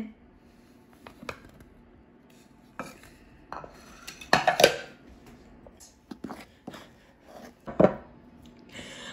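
Banana bread batter stirred by hand in a single bowl, irregular scraping and knocking clatters of utensil against the bowl, with a few sharper louder strikes, close and fairly quiet between bursts.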